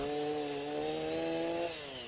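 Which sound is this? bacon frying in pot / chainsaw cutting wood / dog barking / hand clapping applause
chainsaw cutting wood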